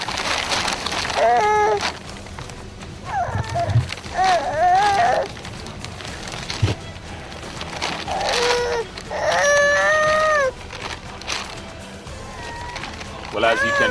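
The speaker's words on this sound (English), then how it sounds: "that's the cry of a baby right under the polythene" An infant cries in short wailing bursts beneath polythene sheeting in driving rain at a shelter in Ghana, the cries rising and breaking against a constant rustling, rain-like hiss.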